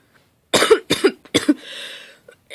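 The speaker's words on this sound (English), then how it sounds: "Boy, I have a cough." Three sharp cartoon coughs in quick succession, close and clear, followed by a short raspy exhale.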